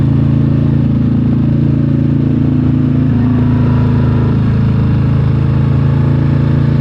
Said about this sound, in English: Enjoy the drone of the engine